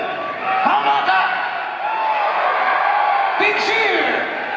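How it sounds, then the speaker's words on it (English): A concert crowd at the Fillmore in Detroit, at a show, cheers and whoops loudly and steadily for several seconds, a dense roar of many voices with a few shouts rising above it. "Big cheer."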